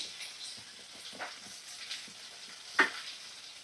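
Potatoes and a medium onion fry in a pan. A soft, continuous sizzle runs underneath, broken by a few light stirring scrapes and one sharper utensil knock.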